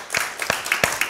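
A church congregation gathered for a Wednesday evening service claps their hands in a quick, uneven rhythm, several sharp claps close by within about a second.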